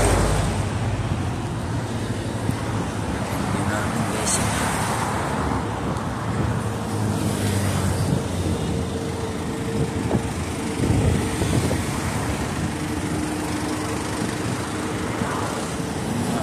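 Steady roadway traffic along a street where pedestrians walk and cross, with cars passing at moderate distance as a continuous rumbling wash, swelling slightly as vehicles go by, no talking.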